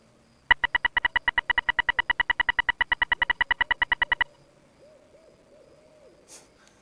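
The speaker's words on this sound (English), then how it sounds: "Why does it sound like birds in here?" A bird hoots in the video game The Secret of Monkey Island: a rapid, evenly spaced train of about thirty sharp hoots lasting roughly four seconds, then quiet with faint low sounds.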